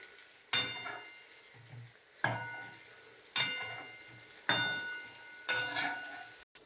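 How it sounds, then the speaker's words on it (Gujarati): Potatoes frying in hot oil are stirred and turned over in the pan, giving five sharp scraping strokes roughly a second apart over a steady close sizzle, with no talking. "હલાવો બધા ફેરવી નાખો આમથી આમ."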